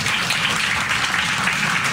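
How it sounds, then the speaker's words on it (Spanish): Parents and families applauding at a kindergarten graduation ceremony, loud continuous clapping from a sizable crowd, dense and unbroken throughout, with no voices. "Fuertes los aplausos de esta comunidad."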